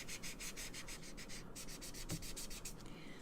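Sandpaper rubbing over a wood-burned portrait on a wooden surface, a steady series of short, faint back-and-forth scratchy strokes with no voices.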